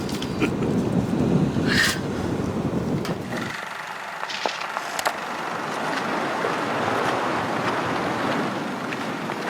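Ocean waves wash and churn around a Carnival cruise ship at sea, a continuous rushing surf mixed with wind buffeting the microphone, loud and steady throughout.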